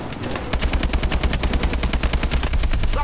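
Rapid bursts of automatic gunfire from the Call of Duty Advanced Warfare campaign during a highway mission, dense and continuous, with shots crackling in quick succession close up.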